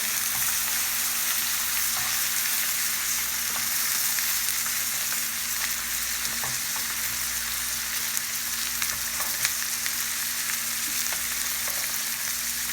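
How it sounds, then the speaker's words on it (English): Filet mignon fillets sizzle steadily in a tilted pan as melted butter with garlic is spooned over them, a dense, even frying crackle with faint clicks and spits, close and continuous with no talking. "slightly tilt the pan and just baste the fillets with the melted butter"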